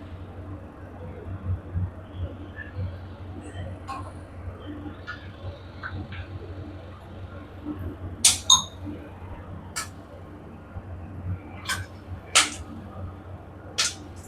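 Sharp, scattered pops and crackles of peppercorns bursting in hot oil come irregularly over a low, steady sizzle, with a cluster of louder snaps midway, while tempering for pongal.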